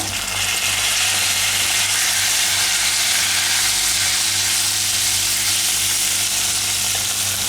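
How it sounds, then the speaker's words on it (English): Raisins sizzle as they hit a hot pan of sweet vermicelli (sev ni biranj) in the making, a steady, loud, dense frying hiss that runs unbroken with no talk. "I'm adding the raisins right now."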